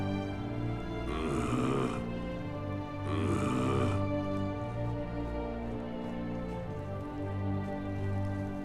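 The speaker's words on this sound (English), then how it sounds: "Hope I didn't wake anyone up with my snoring." Snoring from a man in the Mass Effect game, two loud rasping bursts of about a second each, roughly two seconds apart, over a steady low background hum and music.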